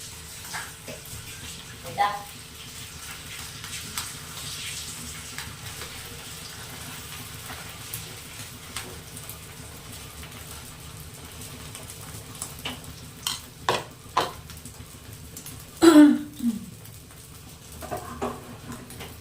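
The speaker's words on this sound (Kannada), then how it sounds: "ಓಕೆ, ಫ್ರೈ ಆಗ್ತಾ ಇದೆ." Fish roe omelette frying on a hot tawa gives off a faint, steady sizzle, broken by a few light clinks and scrapes from cooking.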